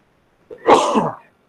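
A single short sneeze bursts out close by in a quiet classroom, lasting under a second and standing alone without talk around it.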